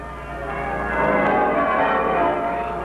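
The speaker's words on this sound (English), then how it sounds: "the bells of the town pealing out there beyond his window" Town church bells pealing on a bright Christmas morning in a 1953 radio drama, a steady, full ringing wash that swells slightly and holds without pause.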